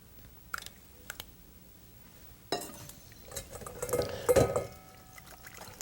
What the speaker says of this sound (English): So let's take it over here and push it through a colander.